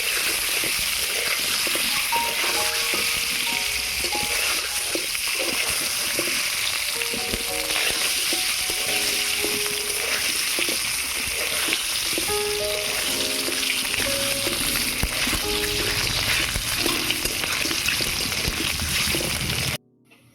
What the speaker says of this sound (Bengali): ডিমগুলো দিয়ে দিয়েছি, এবারে ডিমগুলো ভেজে নেব।